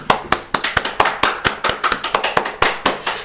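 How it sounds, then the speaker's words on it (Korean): Audience at a Bible recitation lecture clapping in a fairly sparse, rhythmic pattern, with distinct sharp claps and no voices. "여러분 박수 한번 보내주시기 바랍니다."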